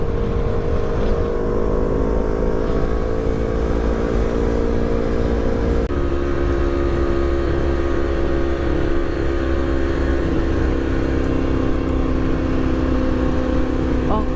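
A Yamaha R6 sport motorcycle idles steadily up close, a loud continuous engine hum with a brief shift in pitch midway, heard alone without talk.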